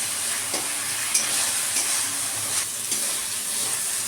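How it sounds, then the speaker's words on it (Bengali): Chicken mince with spices sizzles steadily in a pan, a continuous loud frying hiss broken by occasional stirring scrapes, with no talking. "চিকেন কিমাটা ভালো করে মশলার সাথে করে রেডি করে নেবো, ভাজা ভাজা করবো"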